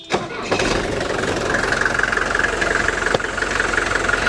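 A 1983 Mercedes 240D diesel engine cranks and fires up, then settles into a loud, steady clattering idle with a continuous rough diesel knock close to the microphone.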